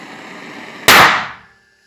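Collected gas ignited by a spark bursts in one sharp, loud bang that rings and decays over about half a second into near silence, preceded by low background hum and no talking.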